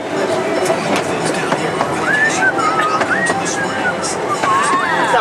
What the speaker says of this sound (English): Nice little train ride.